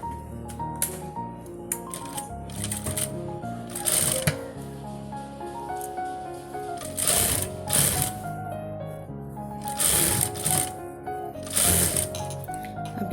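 A sewing machine stitches a pleated sleeve in short mechanical bursts of rapid clatter separated by pauses, close and moderately loud, with faint background music and no speech.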